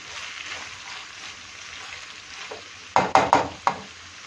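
Saç kavurma meat frying together with softened onions, a steady low sizzle under a few sharp bursts of spatula scraping and stirring near the end, no talk.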